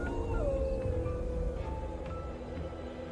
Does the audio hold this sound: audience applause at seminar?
no